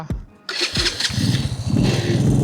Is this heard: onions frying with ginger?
no